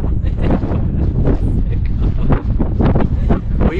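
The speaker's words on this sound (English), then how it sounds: "The wind is undressing me" Strong desert wind storm buffeting the microphone, a loud, steady roar with gusty surges throughout, close and overwhelming.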